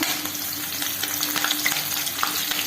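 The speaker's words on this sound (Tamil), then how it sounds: "கடுகு வெடிச்சிடுச்சு." Hot oil sizzling steadily with rapid crackles and tiny pops of mustard seeds spluttering in a pan while cooking carrot mango rice, continuous and close.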